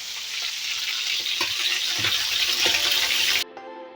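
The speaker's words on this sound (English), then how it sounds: "while I'm frying the chicken" Steady, loud sizzling of chicken frying in hot oil for a chicken and bamboo shoot curry, a continuous bright crackle with a few soft clinks, cutting off abruptly near the end.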